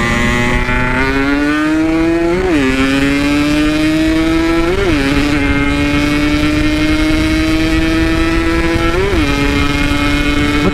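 A Yamaha RX-King two-stroke motorcycle on a night ride, engine droning loud and close throughout, with the pitch rising in three sharp throttle blips before settling back to a steady hum.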